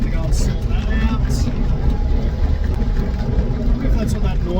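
A 1958 VW Beetle engine runs steadily with a slipping clutch, a continuous low rumbling drone with some rattly texture, fairly close and loud throughout.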